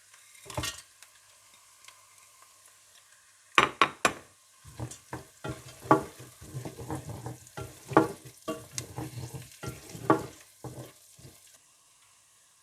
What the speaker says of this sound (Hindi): आप इसमें हरी मिर्चें, दालचीनी का टुकड़ा, बादियान, सब्ज़ इलायची और साबुत काली मिर्चें डालकर थोड़ा सा भून लें